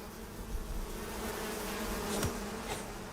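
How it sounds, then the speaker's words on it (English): In the open-world survival game Icarus, a swarm of bees drones in a steady buzz, with one sharper close fly-by whine partway through and no talking. "Get down here, bees."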